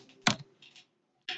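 Fingers tap a laptop keyboard in a few sharp, close clicks separated by brief silent gaps.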